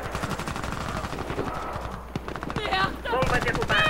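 Gunfire in the video game Warface, rapid automatic shots rattling beneath overlapping voices of players talking, growing louder toward the end.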